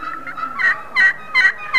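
A turkey friction call played as a test, giving a series of raspy yelps that each open on a high tone and roll over into rasp, about four notes rising in loudness, close and alone.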